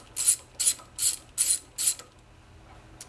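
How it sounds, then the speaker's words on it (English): A ratchet wrench clicks in five quick, even bursts of bright ratcheting while bolts are loosened on a high-pressure pump, close up, then stops in a quiet room with no talk. "we're going to remove the other 6 bolts"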